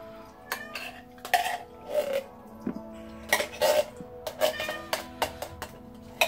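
A female cat meows repeatedly in a kitchen during cooking, several short, fairly loud, close calls spaced irregularly across the moment, with no talking.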